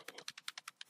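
Computer keyboard keys are pressed in quick succession, about nine crisp, close clicks spaced evenly over a second, with no talking.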